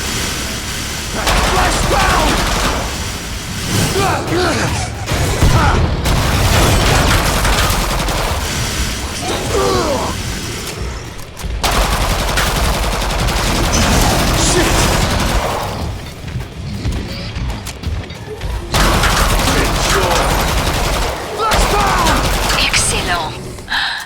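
Gunfire in the video game Killing Floor 2, with dense bursts of rapid shots and booms repeating in loud stretches, broken by short pauses, with a voice talking over parts of it.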